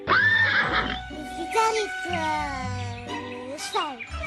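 Horse neigh from Zelda: Ocarina of Time, a loud shrill whinny at the start followed by game sounds and a child-like voice, with more whinnying tones later.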